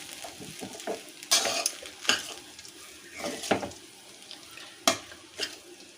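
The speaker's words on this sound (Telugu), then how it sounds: "మళ్ళీ ఒకసారి మనం మిక్స్ చేసేసుకుందాం" Lemon rice (pulihora) with fresh coriander being stirred in a pan, with repeated scraping and clattering strokes of a spoon against the metal over a soft background sizzle, close up and without speech.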